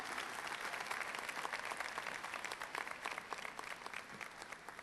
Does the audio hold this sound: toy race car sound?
no